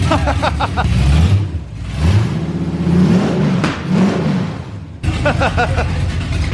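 A 454 big block in a 1969 Camaro, fitted with headers and running without mufflers, revs loudly several times, each blip rising and falling with a raw, open rumble close by.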